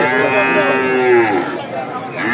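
A Holstein Friesian calf at a livestock market lets out one loud, drawn-out moo close by, rising then fading.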